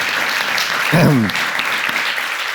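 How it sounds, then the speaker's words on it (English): Audience applause fills a conference hall at a global public goods forum, a steady dense clatter of many hands throughout, with a brief voice breaking through partway. "if I may ask the audience for a round of applause for that leadership"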